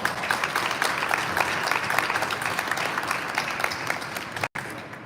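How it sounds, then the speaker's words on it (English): Applause from the crowd at a heavyweight boxing press conference in Detroit, steady dense clapping over several seconds that cuts off briefly near the end before resuming. "Ladies and gentlemen, put a round of applause for the manager, the promoter, the man who knows Eye of the Tiger, Emil Estefan."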